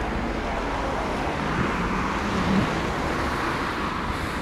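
Steady street traffic along the Oba seafront in Alanya, Turkey, with many cars passing in a continuous, fairly loud roadway roar and some wind noise, no voices.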